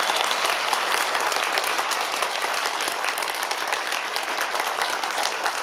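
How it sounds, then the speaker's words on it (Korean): A church congregation applauds after a choir's worship song during a Sunday morning service, steady dense clapping from many hands filling the room throughout. "우리 박수하도록 하겠습니다."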